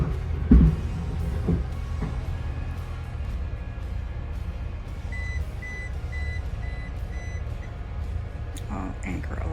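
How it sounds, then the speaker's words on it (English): A boat's anchor alarm beeps as a faint, steady electronic tone partway through, over low engine rumble and wind on a sailing yacht in the Aegean Sea; brief voices are heard. "Oh, anchor alarm, I forgot to turn it off."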